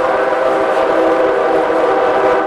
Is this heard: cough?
no